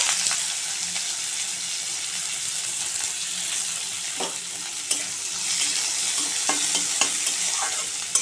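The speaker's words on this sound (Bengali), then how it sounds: "পেঁয়াজটা একটু ভাজা ভাজা করে নেব।" Chopped onion fries in hot oil in a wok, giving a continuous bright sizzle with occasional stirring scrapes and small knocks, close and steady.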